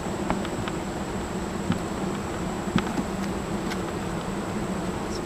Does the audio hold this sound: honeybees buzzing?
yes